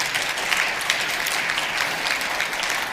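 An audience at a talk claps steadily and fairly loudly, with a thick, even patter of many hands and no voices over it.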